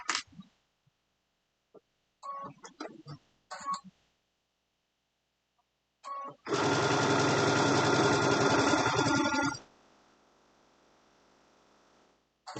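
Sewing machine stitching a seam on an Easter basket: after a few scattered clicks and handling sounds, the motor runs in one loud, sustained three-second burst of stitching, then cuts off to a faint hum.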